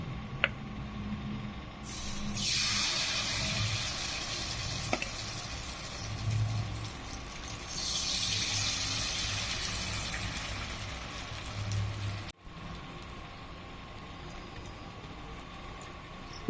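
Batter for a homemade tiffin snack is poured into a pan with a little oil, setting off two long, loud bursts of hissing sizzle that fade before a sudden cutoff. No one speaks.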